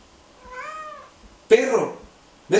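A pet cat named Morgan gives one drawn-out, wavering meow, followed by a person talking close by.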